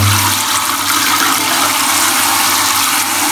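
Steady rushing water runs continuously from a faucet fed by a Stiebel Eltron water heater, loud and close with a low hum beneath and no voices.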